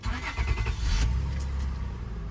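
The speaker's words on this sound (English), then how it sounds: "So start the car." A 2001–2006 Acura MDX engine starts up, a low rumbling crank that settles into a steady idle, close by and with no speech.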